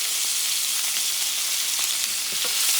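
Beef ribs fry in a pan with a dense, steady hiss of sizzling fat, loud and close, with faint occasional pops and no talk.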